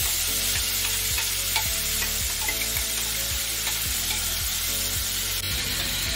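Whole spices such as bay leaf, cardamom, cloves and cumin sizzle in hot oil with a steady close frying hiss, while a spoon scrapes the pan in a regular rhythm.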